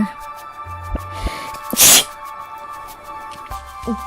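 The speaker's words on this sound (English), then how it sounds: "feel like I'm gonna sneeze" A single loud sneeze bursts out midway, sharp and close, against a quiet room with a steady faint hum and a few soft knocks.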